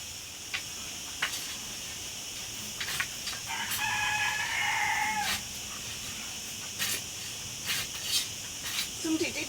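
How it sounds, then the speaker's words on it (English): Chickens and a rooster on a small melon farm in the Algarve countryside, crowing and clucking at a distance in bursts, with a sustained harmonic call in the middle and scattered sharp calls through the rest. "the chickens are very noisy"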